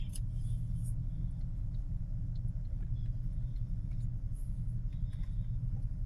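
A fire truck ladder retracting, heard as a steady low mechanical rumble of the truck's engine and hydraulics, continuous and fairly close, with faint distant noises over it.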